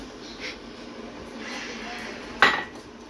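A bowl set down in a home kitchen while bacon jerky prep is under way, giving one sharp clatter of dish against the counter near the end, with faint handling noise and a soft murmur before it.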